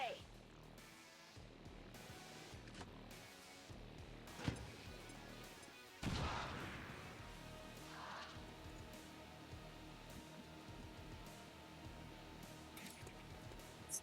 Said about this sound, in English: If we drop a grenade in here